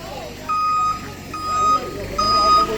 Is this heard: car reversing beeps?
yes